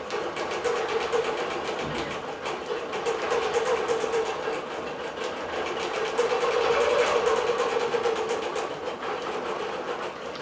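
A digital quilting machine stitches a quilt on its frame, running with a fast, steady mechanical clatter that keeps going throughout at moderate volume.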